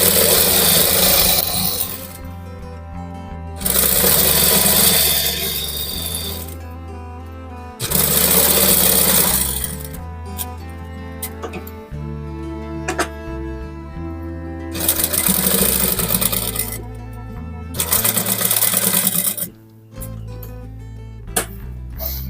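Sewing machine stitching a shirt collar runs in loud bursts of a few seconds each, its rapid mechanical whir starting and stopping repeatedly with short quiet pauses between.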